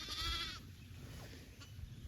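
Lambs bleat in tall spring pasture grass during lambing, with one clear close cry at the start that fades into quiet outdoor ambience.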